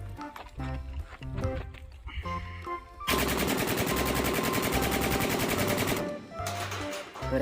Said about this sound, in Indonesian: tembak-tembakan AK-47